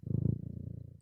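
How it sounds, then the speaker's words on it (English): A cat purring right into the microphone, a close, low, steady rumbling purr with a fast pulsing texture, alone and fairly quiet. "And that's a cat. I mean, purring is very appropriate."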